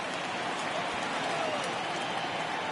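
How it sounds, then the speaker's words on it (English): Steady rain falls on a ballpark in the MLB The Show baseball video game, an even, moderately loud wash of hiss with no talk over it. "This isn't an easy sport to play in the rain."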